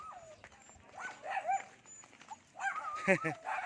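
A dog howls in rising and falling wavering tones, strongest near the end, mixed with people calling out nearby.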